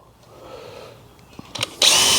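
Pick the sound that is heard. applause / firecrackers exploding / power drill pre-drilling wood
power drill pre-drilling wood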